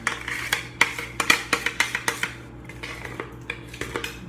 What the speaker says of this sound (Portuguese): Primeiro deixa eu raspar toda a nossa massa líquida